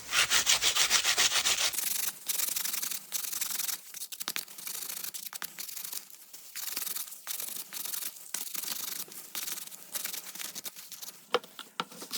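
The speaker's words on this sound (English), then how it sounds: "I'm just gonna run it over the carrot and then it's gonna scrape it" A knife scrapes along a raw carrot, a close rasping rub repeated in quick strokes, harsher at the start and settling into a steady scratchy rhythm.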